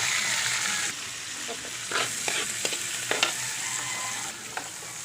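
Browned meat and sliced mushrooms fry in a pan, a constant sizzle broken by irregular clinks and scrapes of stirring, close and moderately loud.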